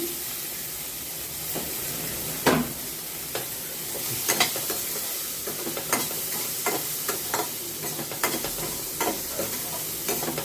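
Uncooked green peas and green chillies are sautéed in a pan while the cook stirs. The sizzle is steady and close, broken by scraping strokes of the spatula at irregular intervals.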